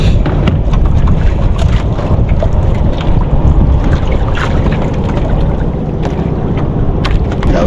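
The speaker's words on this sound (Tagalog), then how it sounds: "Malakas ang amihan eh." Strong northeast monsoon wind buffets a small fishing boat at sea during handline fishing, a loud continuous roar of gusts and wind noise on the microphone with water and boat sounds underneath, steady throughout.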